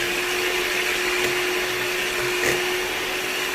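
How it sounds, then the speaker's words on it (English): An electric mixer whisks egg whites with cream of tartar in a mixing bowl, a constant loud motor whine with a steady tone and no pauses, close up and without voices. "In a mixing bowl, I'm going to add the egg whites, followed by the cream of tartar, and I'm going to whisk it"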